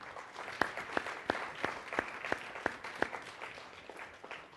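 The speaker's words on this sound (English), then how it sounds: "How about one more round of applause?" Audience applause at a Harvard Undergraduate Council debate, sparse and faint, with a handful of distinct nearby claps standing out over a soft, distant spatter.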